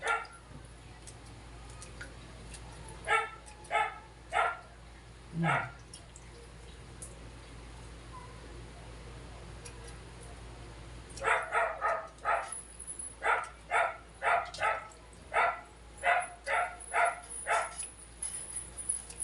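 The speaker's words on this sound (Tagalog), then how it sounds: "Ingay yung aso." A dog barks in short bursts, a few scattered yaps at first, then a quicker, steady run of barks, moderately distant with no talk.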